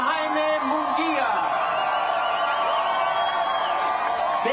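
A large crowd at a boxing weigh-in for challenger Jaime Munguia cheers, whoops and chants continuously and loudly, with individual shouts rising above the roar throughout.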